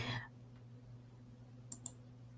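Two quick computer mouse clicks near the end, close and crisp, while adjusting image trace settings in Illustrator; a faint hum sits underneath and a brief voice fragment opens the clip.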